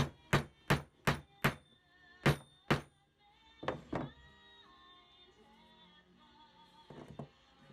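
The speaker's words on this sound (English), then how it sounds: "insert these wooden pieces and hammer it down in" Wooden wedges are hammered into holes to lock rope in a wooden toy robot: a quick run of sharp, close wooden knocks, then a pause and a few more spaced strikes.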